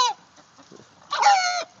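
Chickens cluck and squawk while a young bird dog is kept near them, a short sharp call followed by a louder, longer, strained squawk, close by with no talking.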